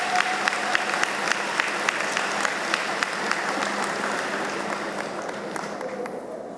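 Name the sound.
audience applause at commencement ceremony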